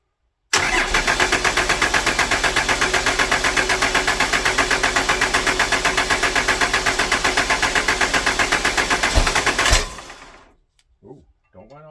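A 12 valve Cummins diesel engine cranking for about nine seconds with a steady, rhythmic starter churn, trying to fire without catching, then stopping abruptly; faint noises follow.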